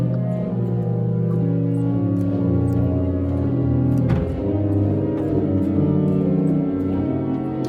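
Pipe organ sustaining dense, full chords with a low pedal line carrying the fourth voice, played continuously and loudly with no one speaking over it.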